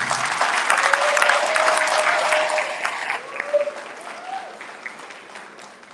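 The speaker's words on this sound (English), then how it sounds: "Please give a big round of applause to the graduates of 2020." An audience applauds the 2020 graduates at a junior high graduation ceremony, dense steady clapping that starts full and gradually thins and fades toward the end.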